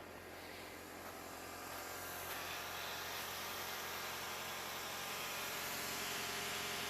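A four-cylinder Toyota Tacoma 4x4 pickup idles in winter, a steady low engine hum under faint broadband hiss, quiet and even throughout with no voices.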